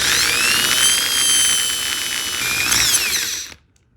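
A power drill bores through a stainless steel hinge into wood, a loud high whining grind with shifting pitch for about three and a half seconds before stopping abruptly.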